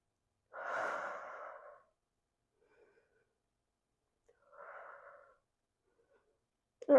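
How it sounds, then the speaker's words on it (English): Two slow, audible breaths during a reformer Pilates side stretch, a long exhale and then a shorter one, close and soft with quiet gaps. "Breathe into your left lung."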